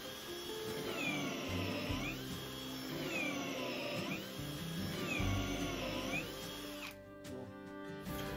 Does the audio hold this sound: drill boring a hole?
yes